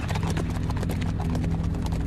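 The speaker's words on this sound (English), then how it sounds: "they galloped off toward Shaolin" Several horses gallop at speed, hooves clattering in a dense, rapid, continuous clip-clop, loud and close, with a brief whinny in the mix.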